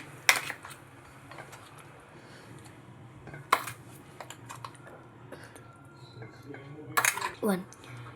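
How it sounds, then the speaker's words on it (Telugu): A few scattered metallic clinks and scrapes of a spoon against a jar and bowl as vegetable chutney is spooned out, fairly faint over a low background hum. "ఇప్పుడు ఈ పచ్చడిని గిన్నెలో తీసుకుంటున్నాను"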